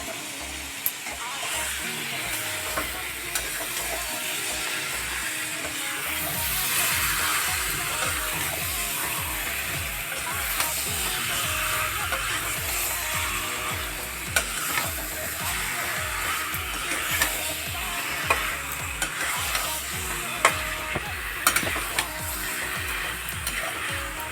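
Meat curry sautés in a pan with a continuous hiss and sizzle, while a spatula scrapes and clinks against the pan at irregular intervals.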